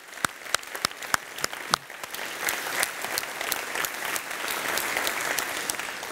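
Audience in a hall at a welcome speech opening a forum event, starting with a few sharp separate claps that swell into dense, sustained applause from the crowd.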